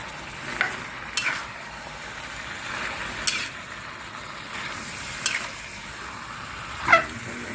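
Beef stir-fries with curry pineapple in a hot pan, a constant sizzle broken by sharp spatula scrapes and clanks roughly every two seconds, close and clear with no talking.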